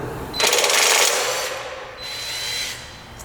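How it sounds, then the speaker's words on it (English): Cordless home power drill removing bolts during a plug change: two close whirring bursts, the first louder and longer, the second shorter, against a steady background hum. "how long it takes to actually take out these bolts"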